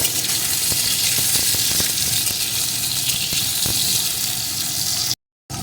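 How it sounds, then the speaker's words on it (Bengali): Salted potato pieces fry in hot oil with a loud, continuous, close-up sizzle and occasional crackles, then cut off abruptly near the end. "এখন আলুটা কিছুক্ষণ ভেজে নেব"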